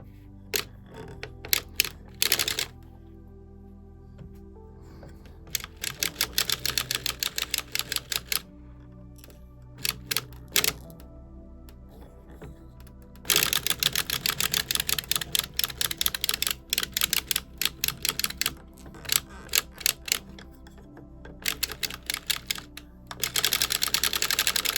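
A Dean and Bean circular sock knitting machine being cranked gives off fast, rattling, clicking runs in bursts, with short pauses between rows and close, crisp mechanical ticks.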